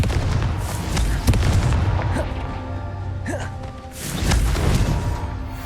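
Booming blasts from the Confringo fire spell in Hogwarts Legacy, loud low-end explosions rising and falling with crackling debris between them, and a short shouted voice in the mix.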